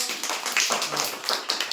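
A run of quick, crisp hand claps from a children's Odia alphabet lesson, close and fairly loud, repeating in an uneven rhythm of roughly seven to eight claps with no speech over them.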